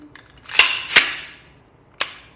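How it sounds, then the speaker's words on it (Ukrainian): Sharp gunshot cracks from a Zbroyar Z15 AR rifle fitted with a Fostech ECHO trigger, two in quick succession followed by a third after a short gap, each decaying fast against a quiet background. "Відпускаємо, відбувається постріл."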